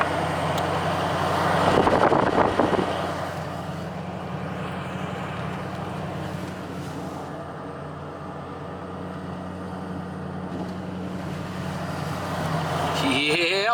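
An L5P diesel pickup truck idles with a steady low engine rumble and drone, fairly close, holding even throughout with a brief louder swell near the start.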